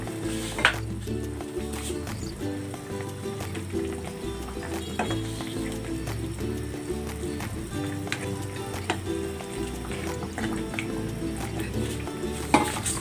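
Radish and string beans going into a simmering pot of sinigang, with steady bubbling and sizzling, stirring, and a few clinks of a utensil against the pot throughout, heard up close with no talking.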